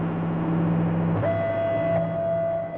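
Weather watch alert tone during a live severe weather radar broadcast: a steady low tone shifts at about the midpoint to a higher sustained tone, loud and continuous, with no talking.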